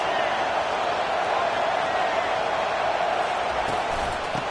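Dense, continuous stadium crowd roar in the College Football 25 video game during a Tennessee game, a steady wash of massed voices at a constant level with no break.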